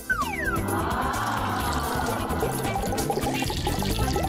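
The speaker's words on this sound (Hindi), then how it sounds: "अब इसे पानी भरती हूँ।" Water is poured steadily into a container to fill it, giving a continuous splashing, gurgling flow that is close, fairly loud and runs throughout.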